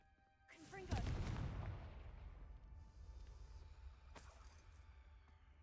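The Confringo fire spell cast in Hogwarts Legacy, a deep booming blast with a shattering crackle that swells quickly and rumbles away into a low fading tail, followed by fainter clinks.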